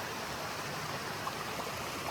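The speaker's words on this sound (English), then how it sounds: "And I assume that this is Comer's Creek running on down that way." Comer's Creek flowing over rocks along the Appalachian Trail between Marion and Damascus, a steady broad rushing wash of water, close and even in level, with no voices.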